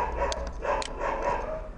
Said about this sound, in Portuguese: Ô, cachorro, cala a boca, velho.